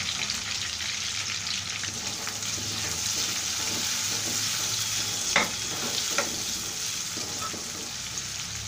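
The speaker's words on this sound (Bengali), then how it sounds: "আমি এখানে 1 কাপ পেঁয়াজ দিয়ে দিলাম।" A cup of onions fries in a pan for Bangladeshi beef kala bhuna, giving a continuous close sizzle with a few stirring clacks and scrapes near the end. No one speaks.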